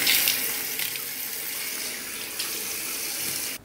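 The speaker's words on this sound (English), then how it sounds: "use lukewarm water to rinse your face" Tap water runs steadily into a sink while a face is rinsed, a close, continuous splashing gush that stops abruptly at the end, with no talking.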